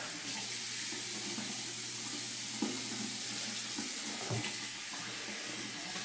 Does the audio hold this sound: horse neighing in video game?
no